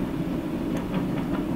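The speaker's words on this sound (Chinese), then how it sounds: "由于我家住火车附近， 所以说有点吵" A train passes close to a house, a steady low rumble with a faint rattling texture that holds at an even level throughout, with no voices.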